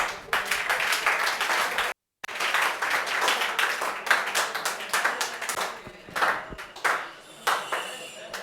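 Audience applause at a school ceremony honouring students selected in JET and CUET (ICAR, BHU) exams, dense clapping with a brief break, voices mixed in.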